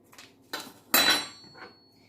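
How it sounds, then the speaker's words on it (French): A spatula scrapes and knocks against a bowl while mixing cake batter for small cakes, making a few short clattering scrapes close up, one louder than the rest. "Je vais donc bien mélanger."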